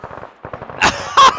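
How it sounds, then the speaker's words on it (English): Gunfire laying down suppressing fire in the military shooter game Arma: two loud, sharp bursts of shots at close range, the second the stronger, following a stretch of low rumbling background noise with no one speaking. "but keep the suppressing fire up to our rear"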